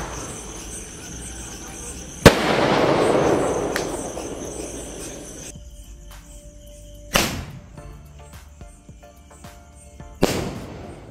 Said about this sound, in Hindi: तो चलिए अभी टेस्ट करते हैं पाम स्काई शॉट को।